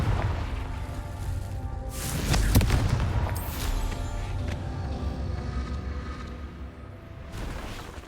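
Confringo fire-blast spell in Hogwarts Legacy, a booming explosion with crackling rumble that swells around the middle and lingers, followed by another burst near the end, no talk.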